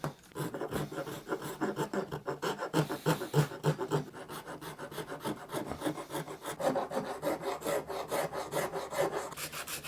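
Wooden guitar body being filed during a back carve, loud close rasping strokes in a quick steady back-and-forth rhythm, no talking.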